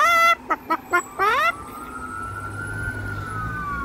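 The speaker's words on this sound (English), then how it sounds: "Here come some fire trucks or something." Fire truck sirens pass close by, short yelps and whoops giving way to a long steady wail, with a heavy vehicle rumbling underneath.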